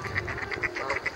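A swan gives a run of short, honking, quack-like calls in a quick regular series, fairly faint and close-by.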